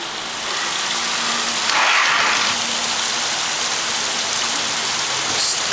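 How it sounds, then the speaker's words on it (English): Steady rain falling and pattering on surfaces, a dense continuous hiss close by with a brief louder swell partway through, no voices. "Time to get the camera out and film more rain."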